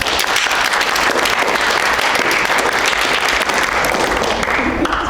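Dense, loud audience applause fills an improv comedy show, a steady wash of many hands clapping at once with no break for the whole stretch.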